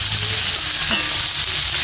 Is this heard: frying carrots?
yes